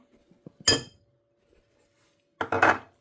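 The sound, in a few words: mixing coconut oil, sodium bicarbonate and corn flour in bowl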